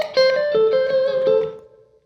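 A short electric guitar blues lick over the IV (F) chord: a quick run of a few picked and slurred notes ringing out and fading within two seconds, lightly driven tone, no talking.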